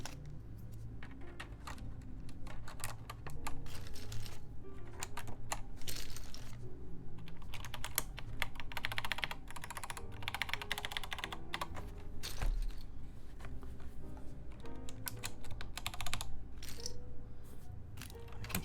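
Continuous clacky typing on a Cherry G80-1813 mechanical keyboard, rapid and uneven keystrokes with a faint metallic spring ping after the presses, close and steady throughout.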